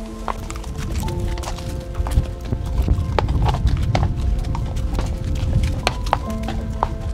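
Horses carrying riders up a snowy alpine mountain trail out of a canyon, hooves clip-clopping steadily and close for several seconds over a constant rumble of movement, with no talk.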